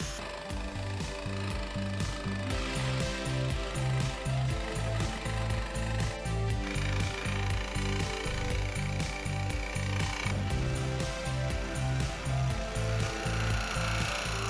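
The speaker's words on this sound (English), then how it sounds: "it quickly became evident that the jigsaw provided a much cleaner cut" Jigsaw cutting through the ribbed metal roof of a VW Vanagon T3 for a pop top, a steady rapid chattering rasp of the reciprocating blade, close and continuous with no talk.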